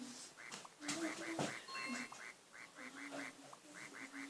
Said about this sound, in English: As you can see, the duck is very smooth.